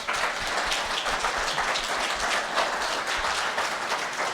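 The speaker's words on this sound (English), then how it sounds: "Give everybody a big round of applause" A panel audience at VCF SoCal 2024 gives a dense, continuous round of applause that holds at an even level from start to finish.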